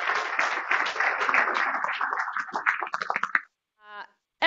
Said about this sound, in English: But give Peter another round of applause.